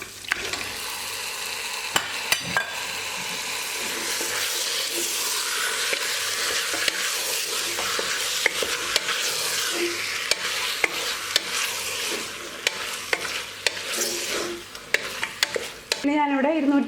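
Chicken pieces fry in a pan for a chicken stew, giving a sustained crackling sizzle with frequent stirring clicks and utensil knocks throughout.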